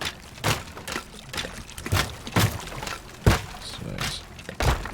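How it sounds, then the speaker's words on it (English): Hammer blows into water in the video game Teardown land as a series of dull splashing thuds, about seven spaced irregularly, each a broad wet impact over a quiet background. "so I can just use the hammer in the water"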